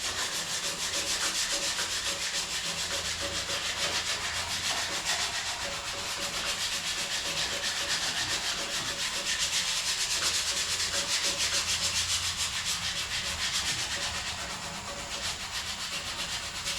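Hand sanding of white primer on a car body panel, an XA Falcon GT fender or XK Falcon door, a continuous close scratchy rubbing with rhythmic back-and-forth strokes and brief lulls.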